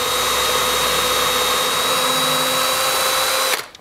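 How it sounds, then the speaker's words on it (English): Power drill driving into wood during a woodworking job, a loud steady whine that holds for about three and a half seconds, then cuts off abruptly near the end. "So we're going to drill in."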